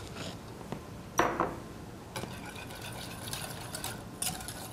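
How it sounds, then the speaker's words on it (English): A spoon stirs macaroni and cheese sauce in a pan, making soft scraping and a few clinks against the metal at an uneven pace, close and fairly quiet, with no talking. "keep stirring that, make sure there's no lumps"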